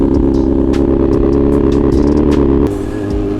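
Motorbikes pulling away on a ride, a steady loud engine drone with clattering mechanical ticks that shifts lower and quieter near the end as the bikes move off.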